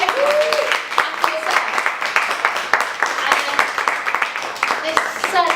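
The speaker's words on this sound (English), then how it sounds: "let's have a massive round of applause for our amazing creatives this evening" Sustained audience applause at an evening creative showcase event, dense clapping throughout with a few cheers and voices mixed in, steady and fairly loud.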